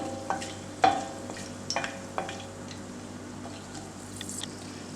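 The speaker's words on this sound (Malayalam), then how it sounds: "അത് ജസ്റ്റ് ഒന്ന് വഴറ്റി കൊടുക്കുക." Cardamom pods and bay leaves sautéing in a pan on low flame, with a few soft stirring scrapes and light clicks over a faint, steady sizzle; close and quiet, no talking.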